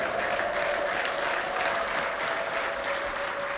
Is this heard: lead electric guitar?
no